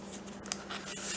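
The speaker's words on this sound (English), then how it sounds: "To be a sticker, I just cut it in half." Scissors make a quick snip through sticker paper to cut it in half, a short sharp click near the middle over a faint steady hum, close and quiet.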